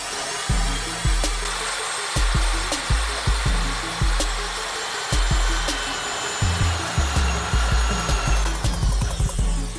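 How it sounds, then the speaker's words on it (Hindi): An electric drill bores a hole through an end cap for a homemade carbide cannon, whining steadily and loudly with repeated low thumping bursts as the bit bites and catches, and no voices. "हम इसमें ड्रिल मशीन की मदद से होल कर लेंगे"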